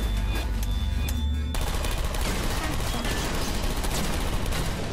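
Turrets in the video game Portal Stories: Mel fire in a dense, continuous rapid-fire stream, loud and close, over a low droning background.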